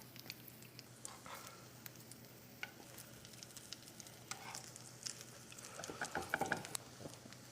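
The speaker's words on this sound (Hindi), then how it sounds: "अब हल्के हाथों से कबाब को पलट लेंगे और हमें दोनों साइड से सेकना है।" Paneer kababs frying slowly in a pan over a low flame, with a soft continuous sizzle and light patter, plus a few sharper scrapes and taps as a spatula turns them, busier near the end.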